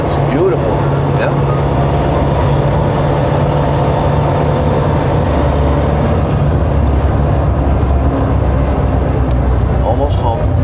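A restored 1929 Ford Model A with a new carburetor runs steadily on the road, a loud continuous engine drone with a low rumble, and people talk over it.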